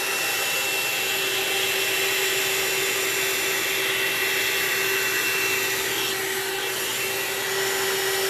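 A round-brush blow dryer runs steadily and loudly throughout, with a constant whirring hum and airy hiss that never pauses.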